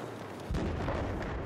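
A grenade explosion in Battlefield 4 lands as a low, muffled boom with a sudden onset and a rumbling, sustained tail, heard faint and distant.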